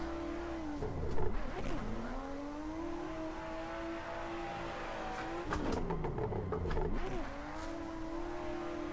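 A car drifts around a track in the racing game Assetto Corsa, its engine droning steadily at high revs while the tires squeal in two sharp bursts as it swings through corners.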